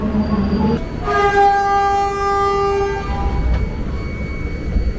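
A train horn sounds a sustained chord for about two seconds, with the rumble and clatter of a passing older INKA-built KRL electric commuter train on the Palur–Yogyakarta line beneath it.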